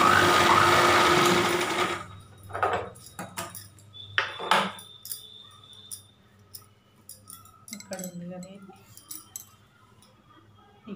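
A sewing machine stitching the belt pieces of plano pants whirs steadily at first, then gives way to scattered clicks, clacks and short bursts of machine noise as the fabric is handled, with faint voice in the background.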